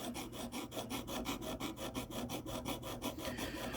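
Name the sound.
sharpening ZT 0562 knife blade on KME sharpener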